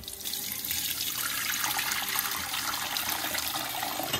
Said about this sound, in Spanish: Los voy a retirar, voy a colar el caldo